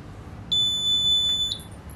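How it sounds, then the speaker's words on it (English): A single electronic buzzer tone from an Arduino voting machine sounds for about a second, flagging a duplicate vote, a steady high-pitched beep against a quiet background. "that's why our buzzer is start ringing again"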